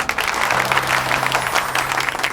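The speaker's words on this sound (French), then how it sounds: "je vous demande de les applaudir très fort" Wedding party guests applaud the newlyweds in a dense, steady wash of clapping, with a low tonal hum running beneath it.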